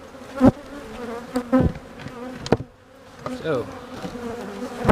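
Honeybees swarm an opened hive split, a close, dense buzzing with individual bees zipping past the ear, plus a few knocks and handling bumps; one brief spoken word is heard.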